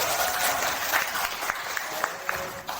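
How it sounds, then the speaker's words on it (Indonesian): Moderately quiet applause from an audience of teachers at a positive-culture training session, short uneven clapping with a few sharper individual claps standing out. "Kita kasih tepuk tangan dulu"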